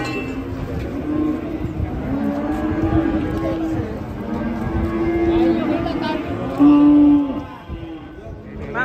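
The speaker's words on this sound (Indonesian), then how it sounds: "Sapi korban terganas." A sacrificial cow moos repeatedly with long, loud, low calls while being unloaded from a truck, with people's voices and shouts mixed in close by.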